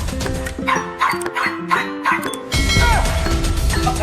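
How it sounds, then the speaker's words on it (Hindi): A young puppy barks in short yapping bursts over a busy, music-like background with a crash partway through, the sounds close and fairly loud. "अब इस नादान पिल्ले को देखो, किसके सामने भौंक रहा है"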